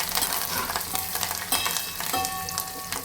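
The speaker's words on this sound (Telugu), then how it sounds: "ఇప్పుడు కరివేపాకు కూడా వేసుకుంటున్నాను" Curry leaves fry in hot oil for a Telugu tamarind dal, giving a bright, steady sizzle and crackle with a few sharper pops and stirring scrapes, close by with no voices.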